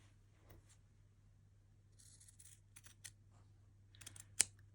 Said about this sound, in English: I'm just going to get my scissors and trim that